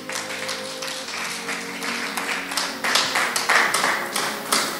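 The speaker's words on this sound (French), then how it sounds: "Quelqu'un peut acclamer pour Jésus?" A church congregation claps and cheers for Jesus during a Bible school graduation service, steady crowd applause that swells toward the end, with no speech over it.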